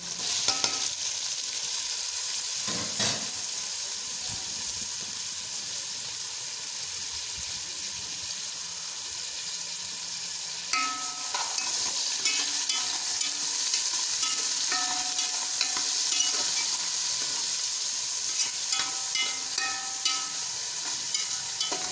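Three tomatoes and five or six green chillies fry in a pot for chicken pilau, making a soft continuous sizzle with occasional stirring scrapes and light clinks over about twenty seconds, no one speaking.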